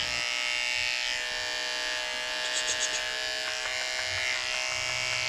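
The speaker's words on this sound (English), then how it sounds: "I'm coming in with my 30 blade and carefully shaving out the mats from around his eyes" Electric grooming clippers with a 30 blade shave out mats close around the eyes of an elderly 17-year-old Yorkie, a steady near buzz with a few brief changes in pitch as the blade moves.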